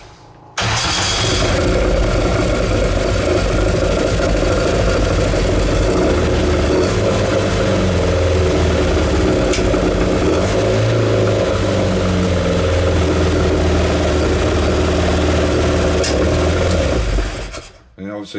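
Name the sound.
Classic Mini engine starting and idling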